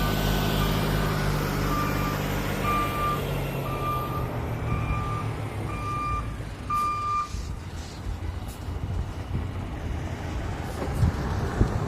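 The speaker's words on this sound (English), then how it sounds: "let that truck go ahead on fast real quick." A reversing truck sounds a steady series of evenly spaced electronic beeps over continuous engine rumble, the beeping stopping partway while the low idle and traffic noise carry on.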